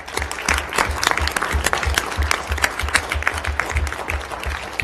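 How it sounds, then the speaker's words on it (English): An audience at a school board of education meeting applauds the band, with brisk, sustained clapping and a few distinct close hand claps over a low rumble of the room. "Round of applause to them."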